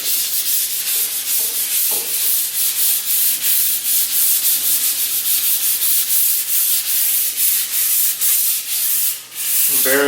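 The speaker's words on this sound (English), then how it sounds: "first thing I'm gonna do after I've got this thing coated already is give it a light scuffing" Light scuffing sandpaper rubbed by hand over a freshly coated surface on a Cape Dory 25D sailboat during an exterior refit, a steady close scratchy hiss of repeated strokes with brief pauses, no voices.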